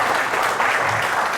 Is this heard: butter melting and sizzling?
no